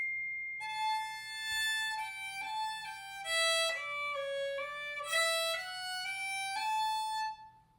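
A solo fiddle plays a smooth melodic line from the tune "Spider Shoe", its notes gliding into one another in connected, slurred bowing, clear and fairly soft throughout.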